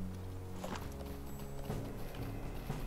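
Faint, soft clip-clop of horse hooves from the online game Lord of the Rings Online, a quiet rhythmic trot of a ridden mount with no talking.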